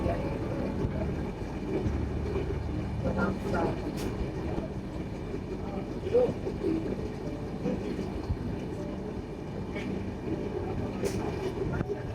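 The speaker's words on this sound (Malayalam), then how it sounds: "ട്രെയിൻ ഇപ്പൊ സ്പീഡ് കുറഞ്ഞു. എനിക്ക് തോന്നുന്നു നമ്മൾ സ്റ്റേഷൻ എത്താറായിട്ടുണ്ടാവണം." A train rumbles and clatters steadily from inside a carriage, with occasional clicks and creaks over a low continuous drone, while people talk faintly.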